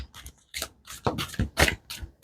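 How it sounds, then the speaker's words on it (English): Tarot cards are shuffled by hand in a quiet room, a series of short papery riffles and slaps arriving in quick irregular bursts, close and clear. "2 more shuffles and then I'm pulling."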